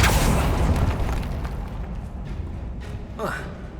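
A Bombarda explosion spell in Hogwarts Legacy, a deep booming blast that rumbles and fades over a few seconds, with a voice speaking over it.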